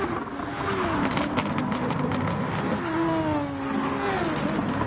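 A Dallara SF19 race car power slides through a turn in a racing game, its engine holding a steady droning whine with pitch sweeps as it drifts, mid-distance and continuous.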